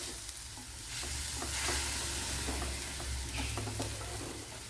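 Horse gram cooking in a steel pan just after water is poured in, a steady close sizzle and bubbling hiss with occasional soft scrapes of stirring, moderately quiet and unbroken, no voices.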